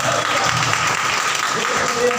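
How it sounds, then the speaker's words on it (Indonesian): An Indonesian congregation claps together during a prayer-house service, a brief burst of loud, dense hand clapping that fills the room, with voices mixed in beneath it. "Tepuk tangan buat Tuhan Yesus."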